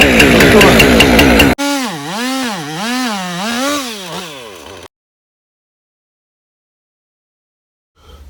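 A Husqvarna 545G Mark II chainsaw warming up, loud and close. A harsh steady roar gives way to an engine pitch that swoops up and down in repeated waves, then cuts out into silence.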